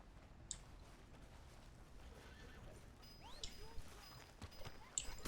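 Horse whinnying in Red Dead Redemption 2, with hoof clip-clops and scattered game ambience, fairly faint, with short whinny calls near the end.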